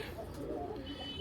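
A domestic pigeon cooing softly in a low, throaty murmur, faint and somewhat distant over a quiet background.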